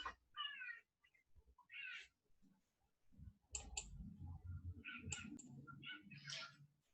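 A cat meows a few times close by near a computer, with soft clicks and shuffling rustles between the calls.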